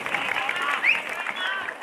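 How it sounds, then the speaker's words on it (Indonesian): A religious lecture audience claps together on cue, a steady wash of crowd applause lasting under two seconds at moderate distance. "Tepuk tangan."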